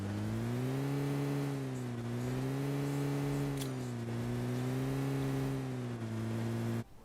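A car in the PUBG Mobile game accelerates at full boost with a steady, loud engine drone that wavers slightly in pitch as it holds speed for about seven seconds, then cuts off abruptly.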